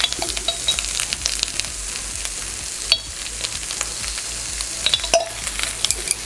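Fish cakes and vegetables stir-fried in chili oil, with a loud, continuous close sizzle and crackle broken by occasional spatula scrapes and taps on the pan.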